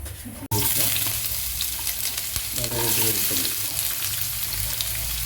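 Star anise, ginger and garlic sizzling loudly in hot oil in a pan while preparing crab curry, with a sharp clatter at the start and steady frying and stirring throughout.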